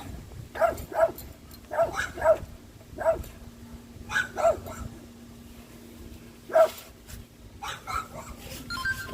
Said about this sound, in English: They always barking at dogs.